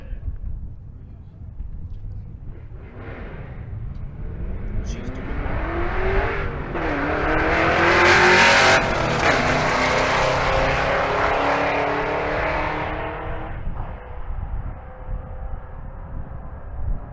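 A 2001 Corvette Z06 and a Fox-body Mustang drag race at Bandimere, engines building from idle to a loud roaring launch that swells, peaks mid-run and fades as the cars pull away, with an announcer talking over it.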